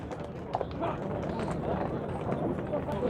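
A horse's hooves clop faintly at the Nookat livestock market, a few scattered steps under nearby people talking.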